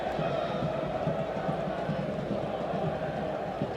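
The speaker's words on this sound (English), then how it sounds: "Crowd, of course, screaming handball." A soccer stadium crowd at an Orlando City SC versus AS Roma match roars steadily, a dense sustained wash of voices yelling for a handball, with speech mixed in.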